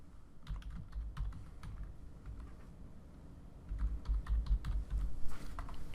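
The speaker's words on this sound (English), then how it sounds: "I'll type in my username and password" Typing a username and password on a computer keyboard at a login screen: a steady run of close, crisp key taps with a brief pause, then a denser, louder burst of keystrokes.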